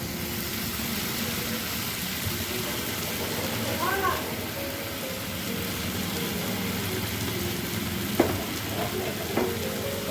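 Chicken drumsticks fry in a pan with salt and vinegar, giving a steady, dense sizzle throughout with a few faint clinks of stirring.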